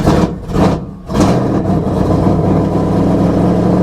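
A big 2016 Toyota Tundra TRD Pro truck engine roars close by after a jump start, revving twice before settling into a loud, steady, rumbling idle.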